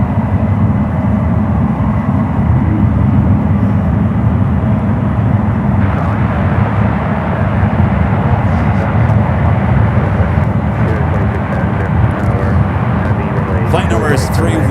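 Airbus A350-900 airliner at San Francisco airport, a steady broadband engine roar running loud throughout, with a voice talking over it.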